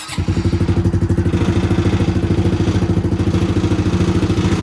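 A Honda CRF110 dirt bike engine starts up and settles into a loud, rapid, even single-cylinder idle chug, heard close by with no talking.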